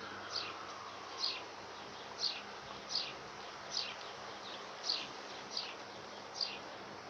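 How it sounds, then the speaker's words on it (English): A bee buzzes around a table indoors, making eight short, regular passes of buzzing at moderate loudness with quiet room tone in between and no talking. "had a bee chasing me around the table"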